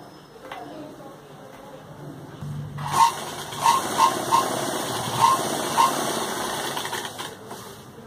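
An electric sewing machine stitches a churidar pajami, starting after a quiet moment and then running in a steady close whir with a few sharper ticks, while a person talks over the machine.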